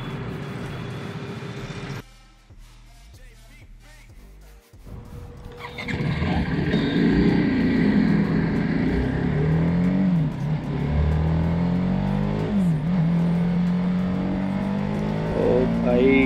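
Superbike engines rumble and rev at a busy toll plaza. After a quieter stretch with a few low tones, a loud, steady engine roar swells with rising and falling revs while someone talks over it.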